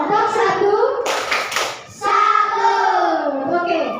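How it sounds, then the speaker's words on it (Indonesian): Schoolchildren in a classroom give a rhythmic clapping salute for the first presentation group, a loud burst of claps between chanted voices that carry on around it. "tepuk salut untuk kelompok 1"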